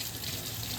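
Hot water running from a tap in a home during cleaning, a brief, steady rushing splash heard up close, with no talking.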